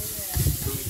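Field crickets caught from rice paddies frying in a pan, giving a steady close sizzle and crackle with brief stirring bursts.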